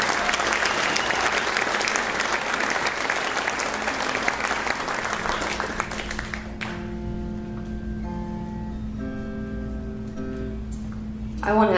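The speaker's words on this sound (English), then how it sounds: "Please give a round of applause for all of the amazing performers tonight." A crowd at a fingerstyle guitar festival concert applauds loudly for several seconds, then the clapping fades as a sustained musical chord rings out.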